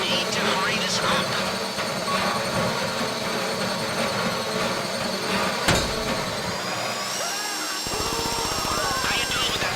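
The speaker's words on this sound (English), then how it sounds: "How you doing with that drill?" A power drill in GTA 5 grinds steadily into a deposit box during a bank heist, a loud continuous rattling whine with a sharp clank midway and a shift in pitch near the end, while voices speak over it.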